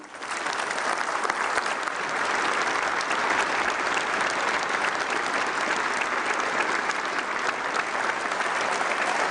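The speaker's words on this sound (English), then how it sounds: "How about one more big round of applause for the Coast Guard Academy Singers" Sustained audience applause at a Department of Defense ceremony honoring a World War II veteran's son, a retired major general, steady and dense throughout, fairly distant with no voices above the clapping.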